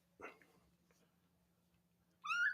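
A live cat inside a camera backpack holding a Sony camera gives a single short rising meow at the end, after a faint rustle and quiet near-silence.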